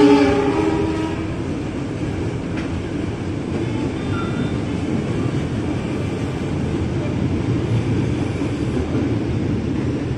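A nearly empty commuter line train pulls out of Pasar Senen station late at night, with a steady low interior rumble and rolling hum inside the carriage throughout and a brief tonal sound near the start.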